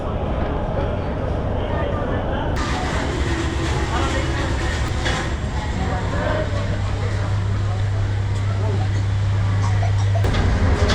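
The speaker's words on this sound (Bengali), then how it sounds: "একেবারে নির্ধারিত সময় চট্টগ্রাম রেলওয়ে স্টেশন থেকে ছেড়ে দিল সোনার বাংলা এক্সপ্রেস" The Sonar Bangla Express, a luxury non-stop intercity train, pulls out of Chittagong railway station with a loud continuous rumble and low engine drone. A voice talks over the steady rolling noise throughout.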